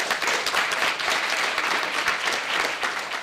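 A youth audience at a TEDx student talk event applauds with sustained, dense clapping that stays loud and even throughout, with no voices on top.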